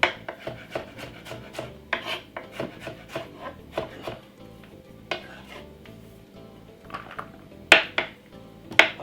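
Garlic cloves and a piece of ginger are chopped finely with a kitchen knife on a board: a quick series of close, crisp knocks in uneven bursts, with short pauses between runs.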